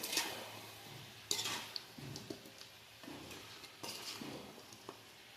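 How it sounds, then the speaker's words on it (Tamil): Salt being stirred into a pan of country chicken pepper fry, with soft scraping and clinking of the spoon against the pan in a few separate bursts over a faint sizzle. "கொஞ்சம் உப்பு போட்டு கிளறிக்கணும்"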